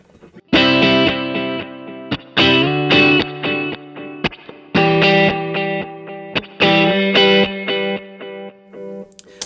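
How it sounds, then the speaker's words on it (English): Electric guitar runs through delay and reverb pedals, playing bright sustained chords in separate phrases with short gaps, each ringing out with echoing tails, loud and alone. "A lot of times I'm just doing a little delay and reverb, and that's it."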